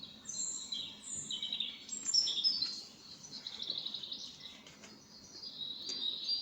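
Robin in an animated story chirping: repeated faint, high, quick tweets scattered across several seconds over soft background hiss.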